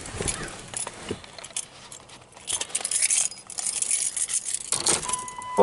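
Keys jangling close to the microphone, a run of bright metallic clinks and rattles over several seconds, with handling noise and no speech.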